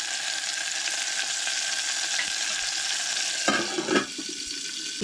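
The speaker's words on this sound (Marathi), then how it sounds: "आवाज तुम्ही ऐकू शकता. फोडणी आमची बरी रेडी जाता पळयात." Cumin, mustard seeds and curry leaves splutter in hot oil for a Goan dal tadka, making a loud, dense, continuous sizzle close by. A few clinks and crackles come near the end, with no talking.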